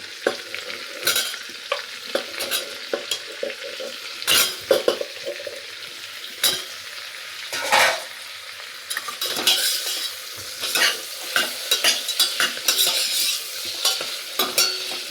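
Leg pieces for trotter soup sautéing in a little oil, with a busy sizzle broken by repeated scraping and stirring knocks of a utensil against the pan, close and fairly loud, with no talking.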